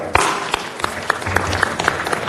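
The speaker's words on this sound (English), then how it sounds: "Ellen Fitzsimmons, give a big clap there" An audience at a city council meeting claps steadily for a couple of seconds, a dense, continuous round of applause with a few sharper individual claps standing out, fairly close and without talk over it.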